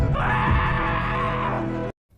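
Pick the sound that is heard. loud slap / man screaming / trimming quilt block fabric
man screaming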